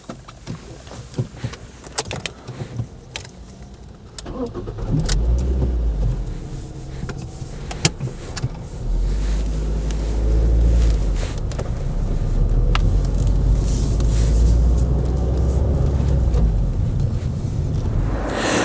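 Car driving, a £174 used car from 2020: clicks and handling noises at first, then a low engine and road rumble that builds and holds steady.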